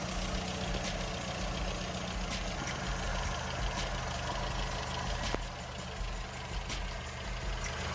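A stone-cold Vauxhall petrol engine with Magnecor KV85 HT leads and NGK plugs idles with no choke, a steady low rumble near the microphone with a brief stumble partway through.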